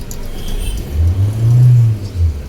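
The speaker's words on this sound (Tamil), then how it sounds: "வண்டி வருது" A car's engine rumbles low and steady, swelling slightly as it creeps forward on the clutch during a first-day driving lesson. The sound is close and continuous, with no speech.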